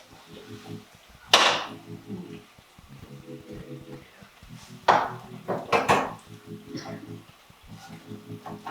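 A pan with leftover chili sauce pulled off a stovetop burner after pork chops cooked, giving two sharp metallic clanks several seconds apart, close and clear, with smaller knocks and scrapes and a voice talking between them.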